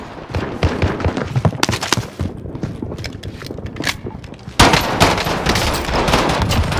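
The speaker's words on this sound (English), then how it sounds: "Dude, a team wipe with 3 pistols." Rapid cracks of pistol fire in the Warzone battle royale game, dense overlapping shots in close succession that grow louder and more continuous near the end, with a brief quieter gap midway.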